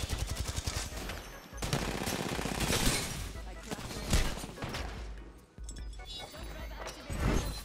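Rapid automatic gunfire from the video game Apex Legends rattles almost continuously at close range, with dense bursts and brief pauses, mixed with game effects and a player speaking over it.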